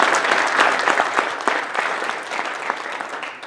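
Audience applause at an indoor chapter meeting, a steady burst of many hands clapping at close range that carries on for several seconds before easing slightly toward the end.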